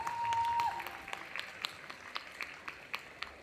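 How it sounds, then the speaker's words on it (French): Sparse, faint clapping from a small audience at a cosplay round-table during a Japan festival in Vannes, a few scattered claps after a brief electronic tone at the start. "Applaudissements, s'il vous plaît."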